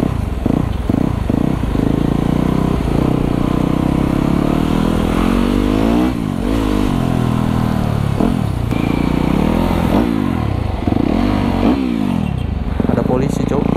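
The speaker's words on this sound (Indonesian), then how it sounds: "Udah gas aja motor wheelie." A Yamaha YZ 250FX supermoto motorcycle revs hard and rides, its engine rising and falling in repeated throttle bursts up close, with riders talking loudly over the noise throughout.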